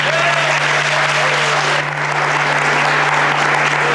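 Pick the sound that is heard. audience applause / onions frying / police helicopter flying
audience applause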